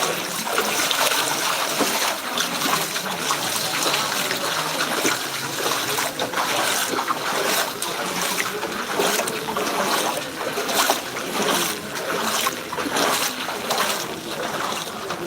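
Floodwater after heavy rain in a Punjabi village, washing and splashing steadily and loudly throughout with a dense, continuous rushing texture and no clear pauses.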